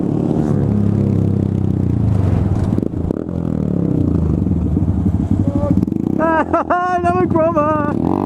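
Motorcycles pass close by at a Shoreham bike gathering, with a steady loud engine rumble and a few rising revs near the end; people speak over the noise.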